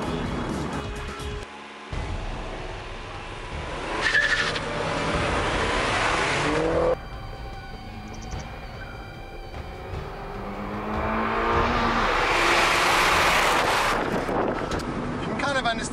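An Abarth 500C Fiat and a Mini John Cooper Works run a drag race, their engines revving hard and climbing through gear changes, heard from inside with heavy wind buffeting and surges in engine note.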